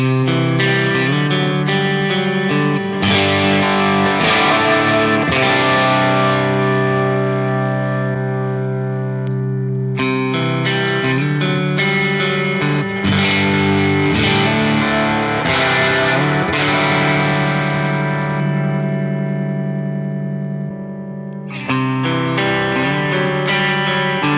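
A heavily distorted electric guitar through a Friedman Plex amp capture plays sustained chords and riffs, loud and upfront, pausing briefly twice before starting again.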